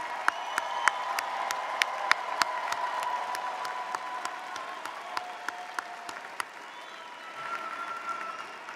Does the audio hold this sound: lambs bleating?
no